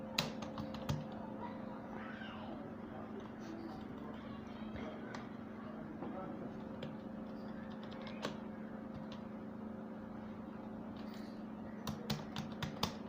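Typing on a computer keyboard gives a faint, steady patter of soft key clicks at a moderate pace against a quiet hum, with a few sharper taps near the end.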